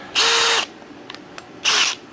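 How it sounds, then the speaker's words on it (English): Two short bursts of a power drill boring screw holes through a cabinet hinge jig, a loud high whine about half a second long, then a pause with faint clicks before a second burst, close by. "these little holes right here in the jig are to drill the screw holes"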